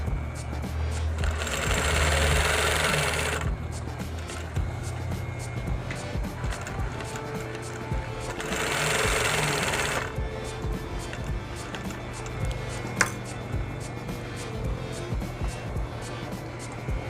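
A sewing machine stitches a seam around a marked outline on fabric, with two separate whirring runs a few seconds each amid quiet handling noises.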